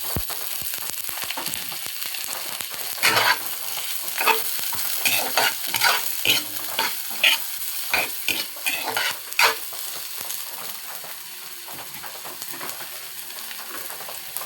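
Onions frying in a pan for chicken biryani, a steady sizzle broken by a run of sharp scraping stirs near the middle, close and fairly loud with no talking.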